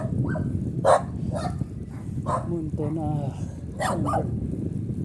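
Dogs bark and yip in short bursts at a distance while a person talks nearby over a constant background hum.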